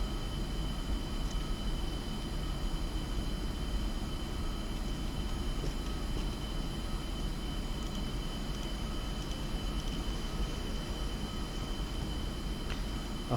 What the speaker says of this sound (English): I'm going to align my aircraft with the runway and then start rolling down the runway